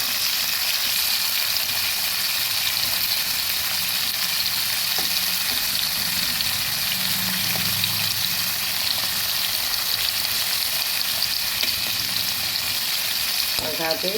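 Spiny gourd (kakrol) pieces fry in a pan at medium heat, giving a steady, loud broadband sizzle throughout, with a few faint stirring clinks near the end and no speech.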